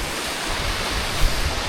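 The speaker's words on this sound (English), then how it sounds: "look at this waterfall all the way under" Loud, steady roar of a waterfall far below a viewpoint on Snezka mountain, a dense broadband rush of falling water that fills the whole moment without any talking.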